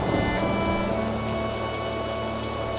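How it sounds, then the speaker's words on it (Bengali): Heavy rain pours steadily during a storm in a Bengali horror cartoon, a dense, continuous hiss of drops hitting surfaces at an even level throughout, with no voices. "হঠাৎ করে খুব জোরে বৃষ্টি নামলো সাথে খুব ঝড় শুরু হলো"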